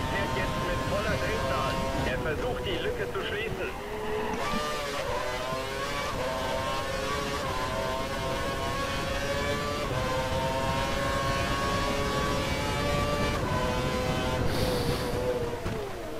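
Formula One car engine in F1 2012, tyres worn and low on grip at Melbourne, revving and climbing through gears in sweeping harmonic rises, loud and continuous, with someone talking over it.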